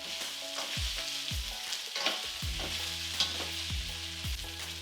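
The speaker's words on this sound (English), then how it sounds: "Our beef has nicely browned" Beef browning in a single stew pot: continuous close sizzling and frying, with a few soft scraping stirs and clinks of a utensil and no one speaking.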